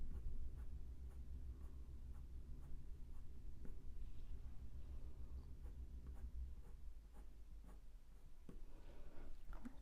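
Blunt pencil scratching steadily across paper while sketching a pair of harvest mice, a close, continuous soft rasp with short strokes and pauses in rhythm, no talking.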